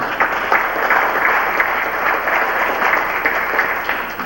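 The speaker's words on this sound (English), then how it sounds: "Give her a round of applause" Steady applause from an audience fills a historic theatre during a 2002 local historical society meeting, continuing evenly for several seconds.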